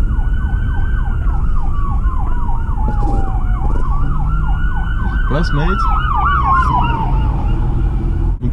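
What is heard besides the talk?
fire engine siren passing by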